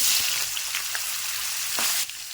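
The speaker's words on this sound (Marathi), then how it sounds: "आपण ते पनीर त्याच्यात तळून घेऊ" Paneer frying in ghee in a pan gives a steady bright sizzle with faint crackles and a few soft pops. It holds for about two seconds before dropping off slightly.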